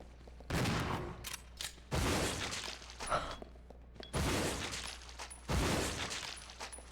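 Four loud, rapid bursts of gunfire from the Resident Evil 0 video game, each a dense rattling volley with short gaps between, no talking.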